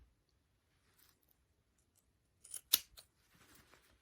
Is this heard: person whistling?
no